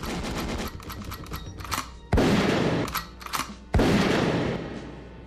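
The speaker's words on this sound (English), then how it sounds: "now let off some gunshots" Bursts of rapid gunfire crackle, followed by two heavy, booming shots that ring out and fade.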